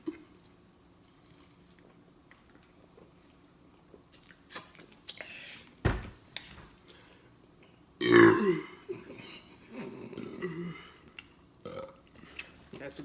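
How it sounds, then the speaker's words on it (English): A woman lets out one loud, deep burp while eating Little Caesars pizza during a mukbang, following quieter chewing and small mouth sounds in an otherwise hushed room. "That's a good burp."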